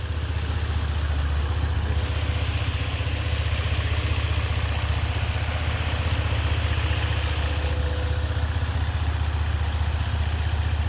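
An engine idles steadily through a straight-piped custom exhaust with the resonator removed, giving a deep, constant low rumble with a faint rhythmic pulse, heard up close with no voices.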